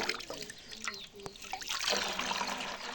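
Water trickling and splashing as it is poured into a container for goats on a farm, a steady pouring wash with faint background voices.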